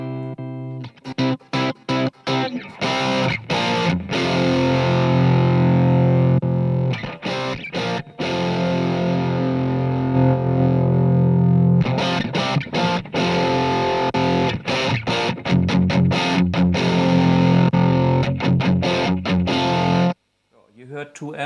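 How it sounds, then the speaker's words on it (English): An electric guitar played through AmpX amp simulation gives heavily distorted chords and riffs with sustained ringing passages broken by choppy palm-muted stabs, loud and upfront, ending in an abrupt stop and a short tail. "Let's see how the AmpX version of it sounds."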